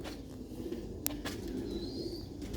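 Sialkoti pigeons coo in a steady, low, murmuring drone with a sharp click and faint chirps above it, fairly close.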